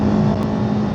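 Remapped CFMOTO 700CLX motorcycle engine droning steadily on a long ride, loud and constant with wind noise, for under a second.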